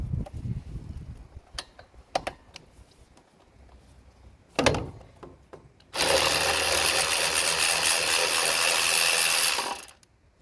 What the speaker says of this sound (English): It's a battery powered ratchet.